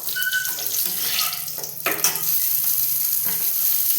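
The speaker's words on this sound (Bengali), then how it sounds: "এই কালো জিরে আর কাঁচা লঙ্কা এই যে দুটো মিশ্রণে যে ফোড়নটা হবে" Black cumin seeds and green chillies crackle and sizzle in hot oil as a tempering for a Bengali pabda fish curry with mustard and poppy seed paste, a steady close hiss with brief sharper spits and no talk.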